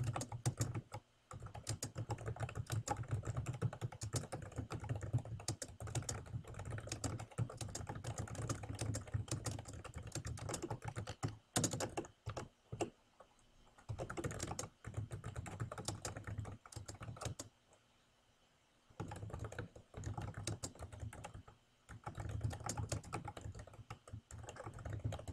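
Rapid keystrokes on a computer keyboard, entering text into a web page, run in steady bursts with a few short pauses, close and clear with no talking.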